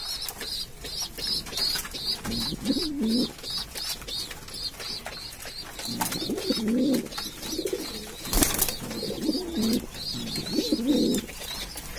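German pigeons in a loft coo in repeated low, rolling phrases against constant high chirping from squabs, with occasional wing flutters, close and moderately loud.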